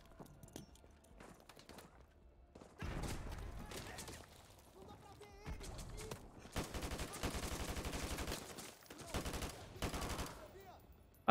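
Gunfire in Call of Duty: Modern Warfare 2 Campaign Remastered, bursts of rapid automatic shots in several clusters, loud and close, with some single shots and scattered battle noise in between.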